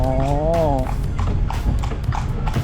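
Horse-drawn carriage hooves clip-clopping at night in Lampang, Thailand, a run of close, rhythmic clops heard under people talking, with a tonal voice at the start.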